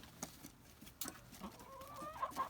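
Backyard hens cluck softly at a shade-clothed run as grub treats are tossed down, several short clucks and a rising call scattered over a faint outdoor background.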